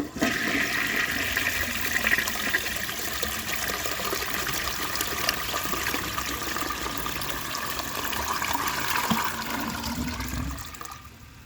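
A 1948 Kohler Brooklands toilet flushes in one long, loud rush of gushing water close by, with trickling continuing throughout and then cutting off abruptly near the end.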